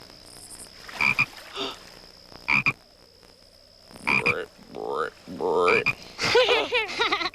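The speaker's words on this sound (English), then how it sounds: "That's a frog!" A frog croaks in several separate bursts, close and fairly loud, with quiet gaps between calls and a steady high whine in the background.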